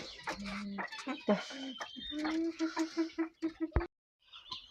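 Several guinea fowl settling to roost for the night cluck and call close by in a busy run of short, chattering notes, ending with a sharp knock and a faint call further off.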